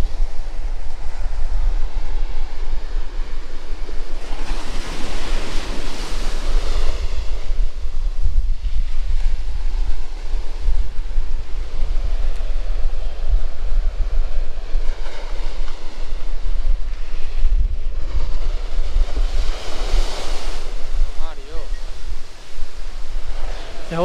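Sea waves surge in over the protective rocks on a Pondicherry beach, a steady broadband roar with repeated swells of breaking surf and constant wind noise throughout.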